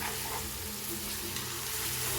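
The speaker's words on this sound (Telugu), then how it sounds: "2 నిమిషాల పాటు వేగనివ్వాలండి" Raw prawn curry frying in a pan, a dense continuous sizzle heard up close for a couple of seconds with no talking.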